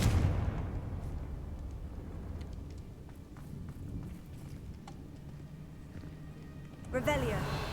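In Hogwarts Legacy, a Confringo blasting spell goes off with a rough burst at the start and another sharp blast near the end, over rumbling game ambience.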